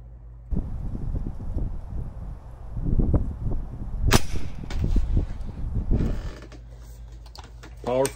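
A Diana 48 side-lever spring-powered air rifle in .177 fires once with a single sharp, close crack midway, set amid handling noise and low voices.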